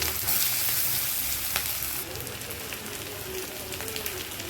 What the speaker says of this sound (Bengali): দিয়ে দেবো কড়াইতে 4 চামচ তেল, আর এর মধ্যে একটুখানি পেঁয়াজ রসুন কুচি, আর এটা একটু বেশ ভাজা ভাজা হবে।